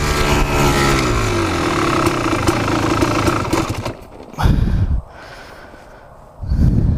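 A Kawasaki KX dirt bike engine with a stuck clutch is revved hard with the clutch lever pulled in, giving a loud, rising, buzzing roar. It then drops sharply, followed by two short, heavy bursts of throttle.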